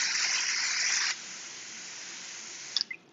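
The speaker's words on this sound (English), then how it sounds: "I'll just give it a little spray just to" About a second of close, hissing spray mist from a spray bottle wetting potting soil for indoor lettuce, followed by a quieter lull and a couple of small wet drips.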